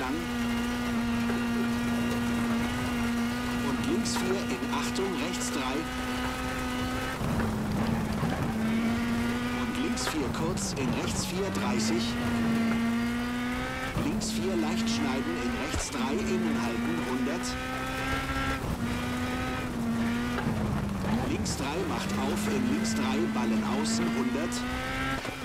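Rally car engine in the WRC 10 video game revving hard and accelerating through gear changes, with a sustained drone that drops at each shift, while someone talks excitedly over it.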